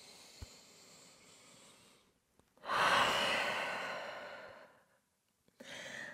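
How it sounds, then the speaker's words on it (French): A deep, audible breath is taken during a gentle vinyasa yoga session: one long airy inhale swells and slowly fades, and a shorter breath begins near the end, in a quiet room. "Grande respiration ici."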